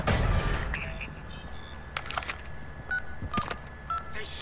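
A phone being dialed in the Call of Duty MW2 DMZ game mode, a sequence of separate electronic keypad tones over background game noise and distant gunfire.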